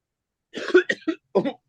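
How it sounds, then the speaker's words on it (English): A few close, harsh coughs in quick succession, then a short pause and one more cough, with silence around them. "Be prepared to cough a little bit here."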